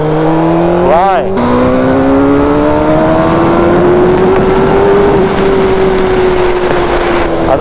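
A Suzuki GSX-R600 K4 sport motorcycle accelerates hard, its engine pitch climbing steadily as it pulls through the revs. A loud, continuous roar with wind rush persists throughout, after a brief quick rev burst near the start.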